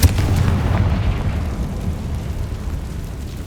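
A Confringo fire spell goes off in the Hogwarts Legacy video game, a loud booming blast at the start that rolls into a low rumbling tail and fades over a few seconds.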